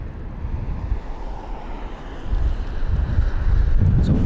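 Storm wind at London Heathrow airport during Storm Kathleen roars and buffets the microphone in a constant low rumble that grows louder and gustier toward the end.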